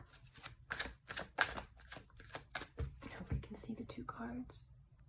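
Tarot cards being shuffled up close, a run of soft riffling flicks and slaps at a quiet level, with a voice murmuring faintly alongside.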